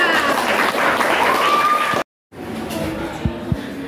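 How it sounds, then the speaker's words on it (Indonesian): Sixth-grade classroom applause for a student group at an Indonesian primary school: a busy wash of children clapping that cuts off abruptly, followed by a quieter room with scattered voices. "Terlebih kelompok 2 berikan tepuk tangan."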